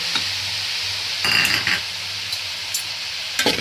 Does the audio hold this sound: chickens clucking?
no